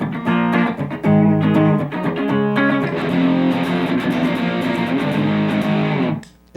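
Loud, sustained distorted electric guitar chords ring out continuously, with heavy saturated tone, then stop abruptly near the end.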